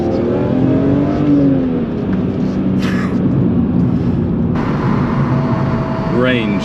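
A BMW E46 M3 drones with a loud, steady engine and road roar from inside the cabin, with a whining tone that rises and falls, while people talk over it.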